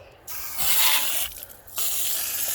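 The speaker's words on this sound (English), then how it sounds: "you take a hose and as simply as spray" A water hose sprays through a HMMWV coolant radiator in bursts: a loud hissing rush, a short drop, a stronger rush, then a brief pause before the spray picks up again, up close with no talk.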